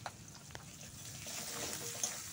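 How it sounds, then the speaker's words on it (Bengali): Chopped onions fry in a pan at home while they brown for a chicken dak bungalow curry, giving a steady, close sizzling hiss with no one speaking. "এখানে আমি পেঁয়াজগুলো ভালো করে লাল করে ভেজে নেব।"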